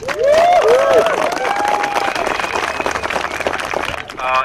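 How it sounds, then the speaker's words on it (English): Loud crowd applause with cheering and whistles at a live community event finale, a dense burst of clapping that holds steady, with voices calling out over it. "the NAC deserves a very loud, warm applause. Come on, guys."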